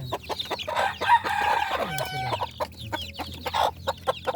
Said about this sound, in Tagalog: Ito yung mga Rhode Island chicken.